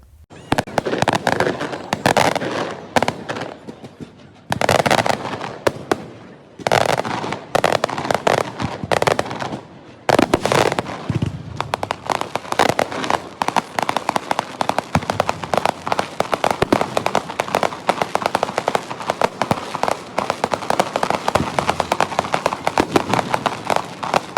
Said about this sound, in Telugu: కరెక్ట్గా నైన్ థర్టీకి స్టార్ట్ చేశారు క్రాకర్స్